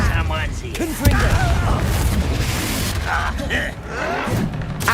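A Confringo blasting spell explodes in the video game Hogwarts Legacy with a sharp booming thud near the one-second mark, followed by rumbling impacts and whooshes while voices speak over the loud combat noise.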